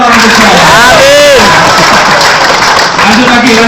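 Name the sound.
audience applause at seminar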